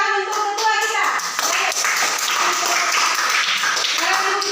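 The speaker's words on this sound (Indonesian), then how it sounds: "Tepuk tangan untuk ketua kita." A sixth-grade class claps together for their group leader, a busy, close burst of children's hands that holds steady for a few seconds, with young voices mixed through the clapping.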